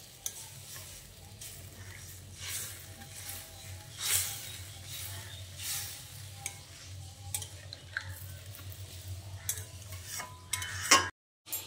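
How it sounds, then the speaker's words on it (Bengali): Potatoes and pointed gourd being stirred with water in a pan for a Bengali vegetarian curry, giving a steady soft sizzle with scraping stirs throughout, close and moderately loud, with no talking. "জলটা দিয়ে আলু ও পটলটাকে ভালো করে মিশিয়ে নিচ্ছি।"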